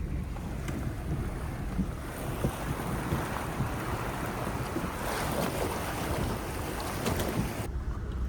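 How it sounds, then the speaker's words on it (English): A vehicle drives through a water crossing on the road into El Questro's Zebedee-area gorge country, with steady rushing, splashing water and wind buffeting the microphone throughout, close and continuous. "Just doing the water crossing on the way into Questro Gorge."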